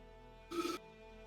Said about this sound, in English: He's getting a phone call.